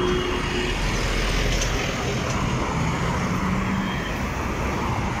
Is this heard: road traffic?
yes